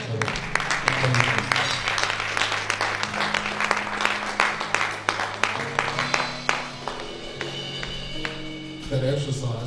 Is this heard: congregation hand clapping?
yes